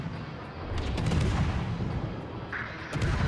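Naval gunfire from warship guns in World of Warships rumbles as a dense, continuous roar of distant booms and artillery blasts, steady and loud throughout without any talk.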